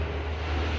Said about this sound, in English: I apologize for the Air Force planes that are going off.